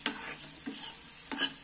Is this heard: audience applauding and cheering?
no